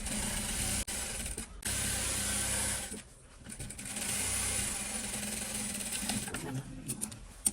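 A sewing machine runs in steady whirring bursts as it stitches a seam on a denim skirt, with short pauses between runs and faint mechanical clicks.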